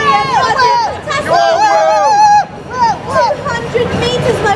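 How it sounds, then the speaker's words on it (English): A marathon crowd in London cheers and shouts for a passing runner, with excited voices whooping loudly over a busy hubbub of chatter. The noise rises and falls in bursts. "Yes, the crowd are going wild for you, William."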